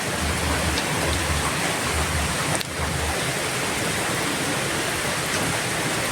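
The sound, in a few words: heavy rain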